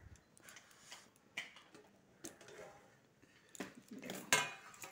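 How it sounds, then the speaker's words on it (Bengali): A metal plate used as a lid clinks and scrapes as it is lifted off a pot of khichuri, with light metallic ticks and clatter building to a sharper clang near the end, close and fairly quiet. "এখন থালটা উঠাই দেখব।"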